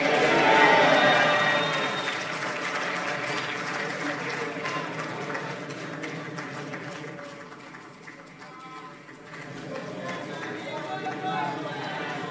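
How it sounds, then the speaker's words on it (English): Crowd applause at the Alliance For New Nigeria national convention: a long, hall-filling wash of clapping and cheering that is loudest at the start, dips midway, then swells again, with voices mixed in. "Please keep the round of applause going."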